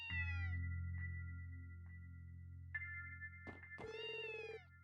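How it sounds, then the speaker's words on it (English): A cat in the video game Trails from Zero meows several times, clear close-up mews with a few short chirps, layered over a steady background music drone. "Oh, it's the cat I saw before."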